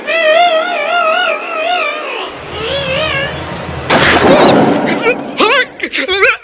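A thrown bomb goes off as a comedy sound effect, a loud burst of noise partway through, following frantic shouting and sung voices and trailed by more excited voices.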